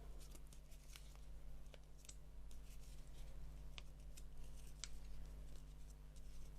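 Scissors snipping through yarn while a pom pom is trimmed, giving crisp, irregular cutting clicks at close range over a steady low hum, with no talking.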